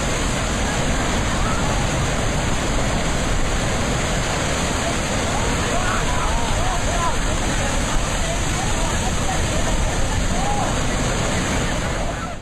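Churning water in a deadly pool, a loud, dense, continuous roar of turbulent water like pounding surf that holds steady for the whole stretch, with a voice faintly under it.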